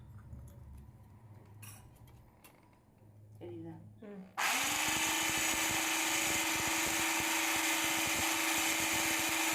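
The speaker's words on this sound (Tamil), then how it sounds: "சேர்த்துட்டு திரும்பவும் இதை நல்லா பீட் பண்ணிக்கலாங்க" An electric beater whirs on at full speed, beating cake batter with refined oil added, after some quieter clinks and handling noises. The whine is loud and steady right up close and holds to the end.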